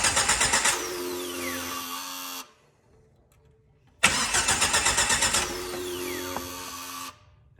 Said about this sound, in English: So if I hit it there, it should crank over.